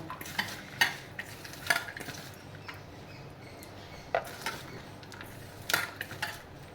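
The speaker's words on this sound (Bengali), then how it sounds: "ভালো করে পেঁয়াজটা মাখিয়ে নেব" Chopped onion mixed into a Bengali salad by hand, giving soft, moist squishing and rustling in irregular bursts, fairly close, with no talking.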